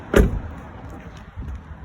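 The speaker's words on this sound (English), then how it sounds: "So if I shut this door up now" A car door thumps shut once, loud and close, with a short rattle as it settles, then only quiet background.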